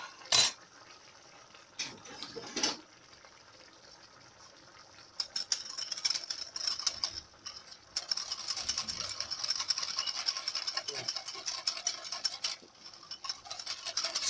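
A whisk clatters and scrapes steadily against a bowl while curry soup ingredients are mixed. A few sharp taps come first, then continuous busy metallic stirring.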